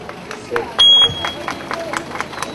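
A crowd at an event in a shopping mall in Sinop claps in a quick, even rhythm beneath a murmur of voices and a brief tonal beep, the applause moderately near and continuous.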